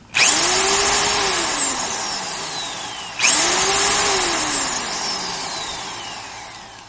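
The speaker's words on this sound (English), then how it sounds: "Still a pretty stout drill with a pretty serious motor." A Vevor 1/2-inch heavy duty mixing drill motor winds up to a loud, high whine, sustains, then slows; it happens twice in a row, close by with no talking.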